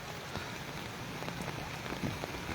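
Heavy torrential rain falls in Taunsa Sharif, a dense and even hiss of drops striking surfaces, steady throughout with scattered nearer splats and no talking.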